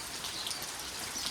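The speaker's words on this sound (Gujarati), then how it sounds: "વરસાદ ખૂબ જ પડી રહ્યો છે" Steady heavy rain pours down in a continuous bright hiss of droplets striking surfaces, close and even throughout with no voices.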